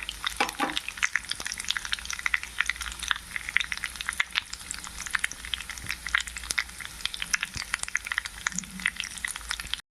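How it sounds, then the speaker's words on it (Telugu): Groundnuts frying in hot oil for poha upma, a steady dense crackle and sizzle with scattered sharp pops throughout, close and continuous. "గ్రౌండ్ నట్స్ కూడా వేగాయి."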